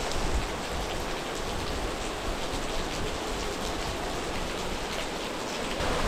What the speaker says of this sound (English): But now it's raining and there's lightning everywhere.